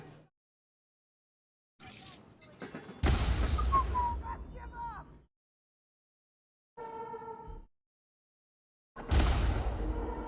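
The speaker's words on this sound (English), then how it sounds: "I hear explosions." Explosions in the space game Elite Dangerous burst in separate loud booms with a whistling streak between them, spaced out with near silence in the gaps.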